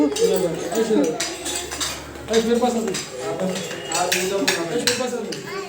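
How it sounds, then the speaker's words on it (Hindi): Spoons clink against bowls in quick, scattered taps, mixed with busy chatter from several people nearby. "मैंने कहा सबकी टक टक की आवाज़ आ रही है खूब"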